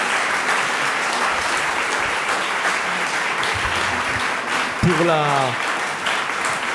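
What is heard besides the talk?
audience applause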